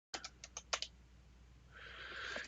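Keystrokes on a computer keyboard while working in the Acme text editor: a short burst of about six crisp clicks, then a steadier hiss takes over toward the end.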